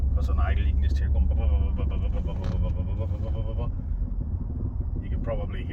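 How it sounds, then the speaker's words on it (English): A 2004 MG ZT-T+ 180 2.5 V6 automatic tourer idling with its exhaust rattling against the floor pan, a deep steady engine rumble with light buzzing vibration, while someone talks over it. "a little bit of a rattle as well from the exhaust vibrating off the chassis"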